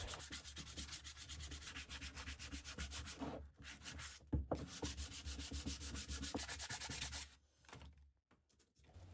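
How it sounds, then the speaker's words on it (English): Fine sandpaper rubs back and forth over a wooden joiner's mallet made from firewood, a close, steady scratchy rasp in rhythmic strokes with brief pauses, fading near the end. "With a piece of fine sandpaper, smooth all the surfaces, including the corners and edges."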